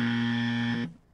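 A game show buzzer rings out loud and steady for under a second, a single sustained electronic tone that cuts off abruptly, leaving only a faint room tail behind it.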